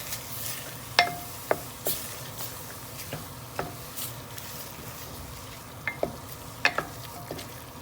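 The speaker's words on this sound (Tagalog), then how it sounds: "we have here chicken stock. We will add it slowly para ma-incorporate mabuti yung flour" Chicken stock is poured slowly into a pan of flour for chowder and stirred, with a low steady sizzle under sharp intermittent clinks and scrapes of a utensil against the pan, heard close.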